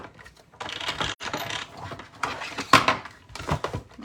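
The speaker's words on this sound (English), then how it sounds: "we are next going to grab our Stamp and Cut and Emboss machine" A Stamp and Cut and Emboss die-cutting machine working, a run of close mechanical clicks, ratcheting and rattling bursts separated by short pauses, with no voices.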